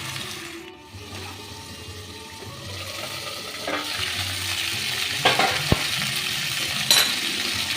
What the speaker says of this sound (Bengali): আমি এই আলু পটলটাকে ভালো করে ভেজে নেব